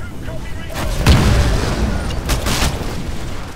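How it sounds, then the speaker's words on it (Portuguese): Explosions and gunfire in the Titanfall video game: a continuous roar of blasts and shots, with a heavy boom about a third of the way in and further bursts after, loud and close, with a player talking over it. "Tá tudo explodindo aqui dentro."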